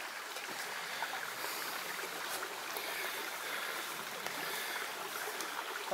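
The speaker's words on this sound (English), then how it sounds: "I think it's pronounced the Esquin Brook." The Esquin Brook, a stream in mixed woodland feeding the Dulas Brook, rushes as a steady broadband wash of flowing water. It stays continuous and fairly faint throughout, with no voices.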